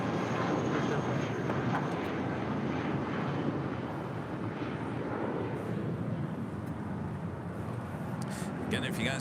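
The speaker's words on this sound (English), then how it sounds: "this is Lufthansa Flight 457 heading back to Frankfurt in the 747-8 Intercontinental" A Lufthansa Boeing 747-8 Intercontinental taxis at LAX, a steady broadband jet rumble and roar continuing throughout at moderate distance.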